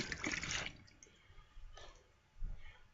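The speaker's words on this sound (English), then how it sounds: "I'm going to rinse this stone a bit, and we're going to go in for a second shot." Water splashes and runs over a Japanese Shobudani whetstone being rinsed after nagura, in a close burst of splashing at first, then two briefer washes, with no voice.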